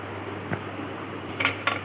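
A metal pressure-cooker lid being closed over egg biryani gives a few short clanks and clicks, one soft knock followed by two sharper metallic taps close by in a quiet kitchen with a faint fan hum.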